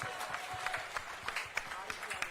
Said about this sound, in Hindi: एक बार जोरदार तालियां भाई हर्ष जी के लिए